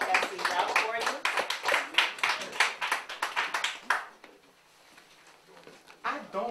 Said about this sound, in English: Let's give a warm round of applause to Brother D.